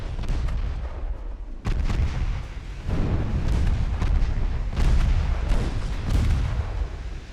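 Heavy 13-inch shells strike a warship in the naval battle game Ultimate Admiral Dreadnoughts, producing loud, deep booming thumps over a constant rumble of gunfire, with several sharp onsets spread across the passage.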